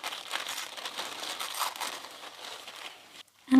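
A paper napkin layer being torn by hand with the fingers, a close, soft crinkling rip with uneven rustling texture over a few seconds, ending in a brief pause and a small bump.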